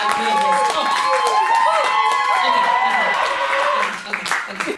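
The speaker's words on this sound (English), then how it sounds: "Keep clapping. Just keep going." An audience at the live Miss Fame 2020 event claps continuously and loudly, with whoops and cheering voices riding over the applause before it thins out near the end.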